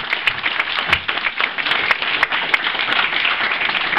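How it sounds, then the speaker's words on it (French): Dense, continuous applause from an audience at an inauguration ceremony, a steady crowd clapping texture with occasional sharper claps, no speech. "vous pouvez les applaudir parce qu'ils nous rejoignent il n'y a pas longtemps"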